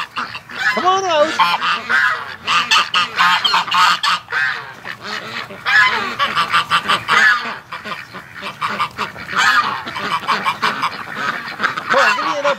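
Several geese honk loudly and repeatedly at close range, their harsh calls overlapping in rapid bursts, with occasional duck-like quacks mixed in.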